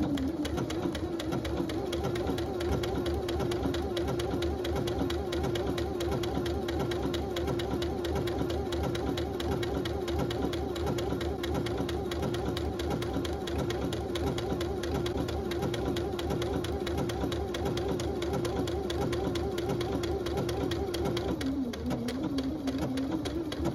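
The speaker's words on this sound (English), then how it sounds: "It's almost like it's doing a reverse stitch on every stitch." A sewing machine runs steadily through a reinforced stretch stitch on a crotch seam, the needle moving forward and back on every stitch in a fast, even mechanical chatter that continues almost unbroken and close up.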